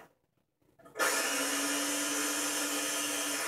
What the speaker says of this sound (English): A pinch of salt into 1 cup of the oats, and just grind these up